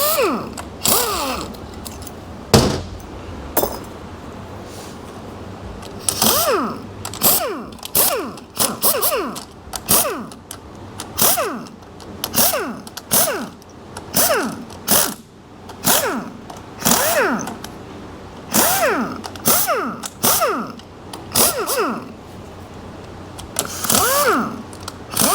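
An impact gun zips loose bolts out of a 4L80E transmission in a run of loud, close, whirring bursts, each rising and falling, repeated one bolt after another.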